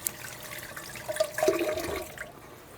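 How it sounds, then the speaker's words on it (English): Water runs and gurgles from a tap as hands are washed, a faint rushing flow swelling in the middle and fading toward the end, with no talk. "I'm going to wash my hands"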